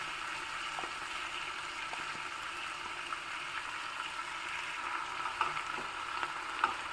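Ground masala mixture frying in hot oil for a traditional Udupi Brahmin-style dish, a steady close sizzle with scattered small pops and crackles throughout, no voices.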